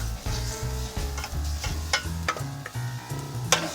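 Food fries in a hot, lightly smoking pan, with a steady close sizzle broken by regular stirring knocks and a few sharper crackles.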